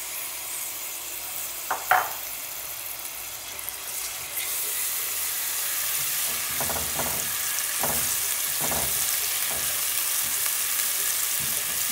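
Ginger garlic paste sizzles steadily in hot oil for chotpoti, a broadband frying hiss that thickens after the paste goes in, with a few sharp stir clinks and pops, close and continuous with no talking.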